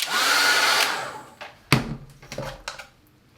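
A hair dryer blows on wet watercolour paint, a loud close rush lasting just over a second before cutting off, followed by a few scattered knocks and clunks.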